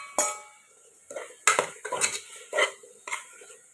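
Chopped tomatoes tipped into a pan and stirred for mushroom biryani: several sharp clattering knocks of a utensil against metal, close and irregular over a few seconds, with no talk.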